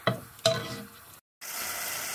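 A pan of curry with cauliflower leaves cooks on the stove. A couple of sharp stirring clatters come first, then a steady close sizzle of frying runs on after a brief gap.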